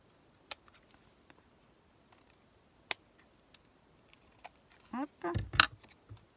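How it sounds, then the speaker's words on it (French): Scissors snip off excess paper while someone works on a scrapbook format layout: scattered sparse clicks early on, then a closer cluster of several quick crisp cuts near the end, faint and without speech. "On vient couper mon ciseau, ce qui dépasse."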